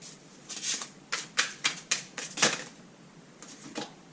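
Tarot cards being drawn and laid out from a deck during a daily reading: a string of crisp papery snaps and slides, about eight close, fairly loud flicks in an uneven rhythm with short pauses, no talking.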